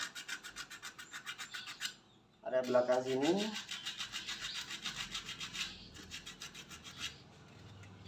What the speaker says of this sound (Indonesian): Yuk, kita amplas ini ya, yang ngapur tadi.